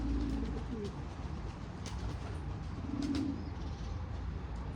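Soft cooing of pigeons in repeated low calls, with faint chirps over a steady outdoor background hum.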